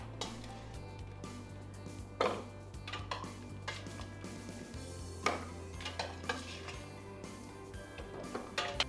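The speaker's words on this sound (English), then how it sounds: "I'm going to transfer them into my food processor here." Cooked cauliflower and potato pieces being moved into a food processor for a creamy cauliflower casserole, with steady clinks and scrapes of utensils against bowls over a low continuous background hum, no talking.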